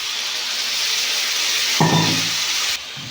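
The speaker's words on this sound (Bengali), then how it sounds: "জল দিয়ে মশলাটা ভালো করে কষিয়ে" Spice paste sizzling and frying in oil in a pan with water added, for a Bengali rohu fish kalia; steady close hiss that swells briefly with a louder burst of bubbling before settling back.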